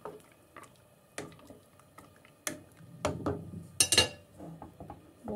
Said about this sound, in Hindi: इसे हम चम्मच से अच्छी तरह मिक्स कर देते हैं।